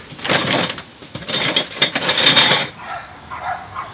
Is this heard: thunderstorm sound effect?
no